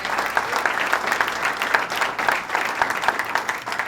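Crowd applause at a governor's announcement event at the 2016 Great New York State Fair, a dense, steady clapping from a large audience that keeps going at full strength throughout.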